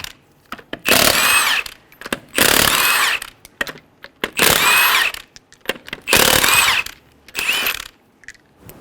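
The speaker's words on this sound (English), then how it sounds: "Using a 19mm socket, remove the 5 lug nuts." A power tool spins off car wheel lug nuts with a 19mm socket on a 2003-2008 Honda Pilot, firing in five loud, close bursts of buzzing ratcheting separated by short pauses.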